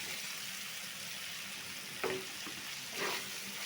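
Shrimp go into a pan of spice paste fried down for a Bengali shrimp bhuna, with a soft steady sizzle under faint splashy hits and a brief louder crackle near the end.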